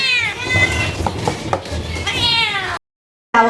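Cats meow loudly and close by in repeated drawn-out calls during a home feeding routine, with clattering of dishes and chopping-like knocks underneath before a brief silence.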